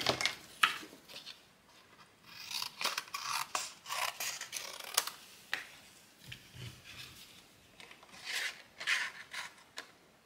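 Scissors snip through paper for a papercraft 3D star, a series of close, crisp cuts in irregular bursts with short pauses, no talking.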